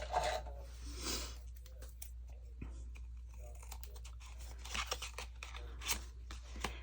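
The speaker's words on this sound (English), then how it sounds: "Let me get my scissors." Scissors snipping card stock tags for a paper-craft project, a quick run of crisp close cuts and handling clicks over a steady low electrical hum, with no speech.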